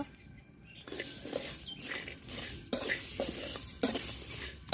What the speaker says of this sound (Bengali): এখন এই মশলাটা দিয়ে দিব, একসাথে আমি ভাজা নিব।